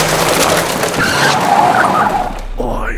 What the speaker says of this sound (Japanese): 車が止まり前方をパトカーが塞ぎます。